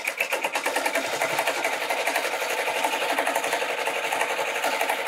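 An embroidery machine stitches out a fabric pouch design at 700 speed, a fast, steady rhythmic clatter and hum heard close up with no talk.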